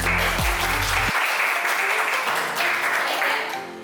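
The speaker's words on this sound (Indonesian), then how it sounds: "tepuk tangan buat enzim." Classroom of students clapping together in a short burst during a biology lesson on enzymes, with dense steady clapping and some low tonal sound and murmuring voices underneath at the start.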